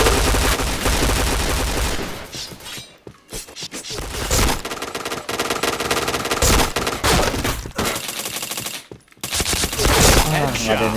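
Dense gunfire from the online shooter PointBlank rattles in loud, rapid bursts with brief pauses between volleys, with a faint voice mixed in underneath.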